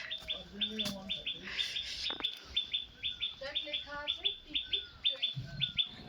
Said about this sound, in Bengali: আর শুনতে পাচ্ছ পাখি ডাকছে